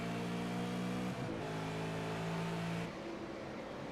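V8 race cars in a racing sim, heard on board at Mid-Ohio, roar loud and close with a sustained, buzzy engine drone, shifting pitch around mid-clip before dropping to a lower, rougher tone near the end.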